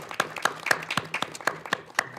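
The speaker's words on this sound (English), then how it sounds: "that's a well-deserved round of applause for those girls" A round of applause breaks out at a school board of education meeting: many hands clapping together in a dense, steady patter with no voices over it.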